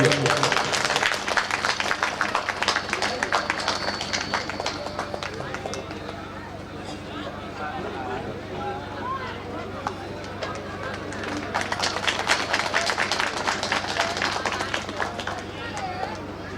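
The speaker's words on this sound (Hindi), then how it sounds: "एक बार जोरदार ताली बजाएं आप सभी हेमंत सिंह कुशवाहा के लिए।" Audience at a Shrimad Bhagavat Katha religious discourse held at a Kali temple in Bihar breaks into loud, dense clapping that swells, eases briefly in the middle, then surges again, with a low steady hum under it.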